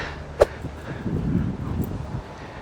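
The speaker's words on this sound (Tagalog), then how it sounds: "Medyo mahangin lang." Soft, low wind buffets the microphone outdoors in Zabeel before dawn in uneven rumbling gusts, with a single sharp click near the start.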